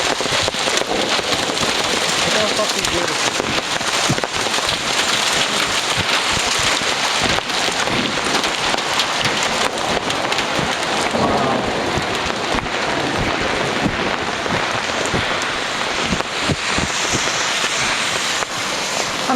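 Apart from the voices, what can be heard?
hail and heavy rain in a thunderstorm in Oslo, Norway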